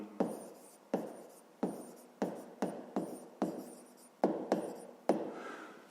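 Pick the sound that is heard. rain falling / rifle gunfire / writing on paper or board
writing on paper or board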